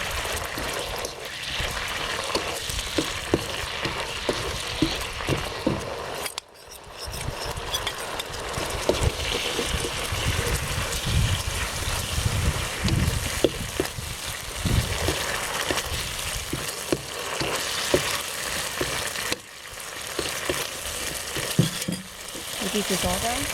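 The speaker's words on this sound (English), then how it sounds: "now I put all the shrimp and scallop in it" Shrimp and scallops fry in a wok with a continuous loud sizzle and hiss, broken by scraping and stirring of a spatula and occasional short gaps as food is moved.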